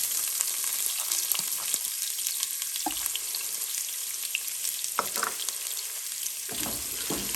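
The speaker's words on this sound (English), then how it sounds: "we will fry these onions till they're translucent or transparent" Chopped onions fry in a pan over low to medium flame, a constant soft sizzle with scattered crackles and a few scraping stirs, close and steady with no talking.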